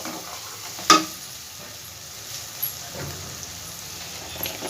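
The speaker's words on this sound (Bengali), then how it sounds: "খুব ভালো করে মশলাটা আমি ভেজে নেব তেলের সাথে" Cumin and coriander seeds fry in hot oil with a soft, steady sizzle, a faint bright crackle running throughout, broken by a sharp clink of a spoon or pan and a couple of lighter stirring knocks.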